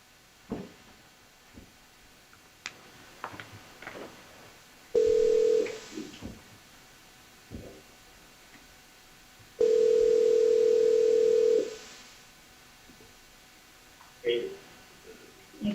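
A recorded phone call plays back: a scatter of dialing clicks and tones, then two long steady ringback tones with quiet gaps between, loud and close in a courtroom setting.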